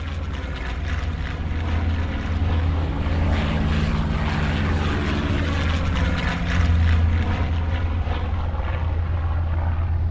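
A propeller military aircraft from the 1937 Battle of Brunete drones steadily overhead, a loud continuous engine hum with a low throbbing tone that swells slightly near the end.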